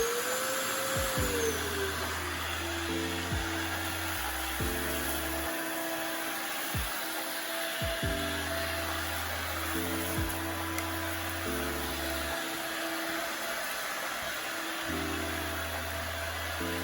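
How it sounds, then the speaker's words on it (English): A Goblin GSV501W-19 cordless vacuum cleaner picks up grain from a rug, its motor holding a steady, moderate hum with a few soft bumps and scrapes as the head moves across the pile. "we'll just take it off and try to vacuum the rug"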